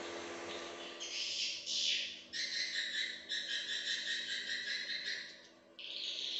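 Swiftlet lure calls play from speakers inside a swiftlet house nesting room, rapid high chirping bursts repeating in irregular bouts over a steady low hum, moderately faint.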